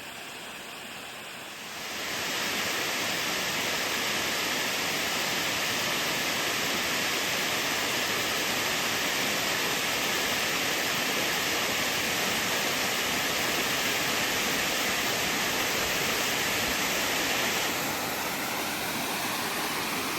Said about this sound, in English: imagine what the waterfall would have looked like on that day